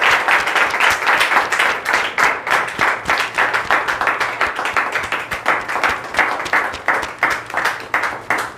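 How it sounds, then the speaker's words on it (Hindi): Loud, sustained applause and rapid clapping from a crowd at an opening ceremony, welcoming the chief guest before a ribbon cutting, dense and steady throughout. "तो एक बार जोरदार तालियों से स्वागत किया जाए।"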